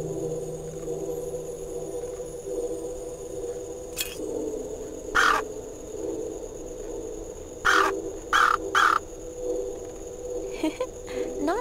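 A crow caws on a rooftop in the point-and-click game Anna's Quest, with several short harsh calls in a loose sequence over a steady ambient game backdrop with a low hum.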